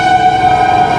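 A Digha local train pulls into Bagnan station, heard from inside as a steady mechanical drone with a sustained tonal whine throughout the brief moment.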